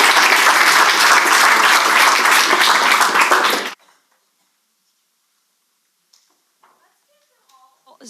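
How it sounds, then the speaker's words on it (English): A crowd applauding loudly and continuously for a few seconds, then stopping abruptly into near silence broken by a few faint small clicks and a brief voice-like sound. "Let's give them all another round of applause"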